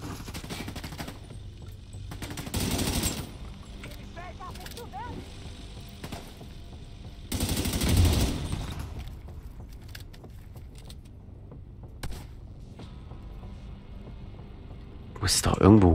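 Enemy gunfire in the shooter game The Division 2: two loud bursts of rapid shots several seconds apart and another at the end, over quieter game ambience with a voice present.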